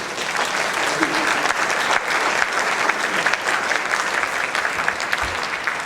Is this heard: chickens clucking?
no